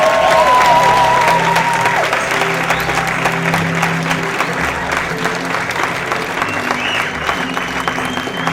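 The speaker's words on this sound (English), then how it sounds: "give everybody a hand" Audience applause fills a comedy storytelling show in Austin, Texas, steady and dense throughout, with scattered cheers and a faint voice or two above the clapping.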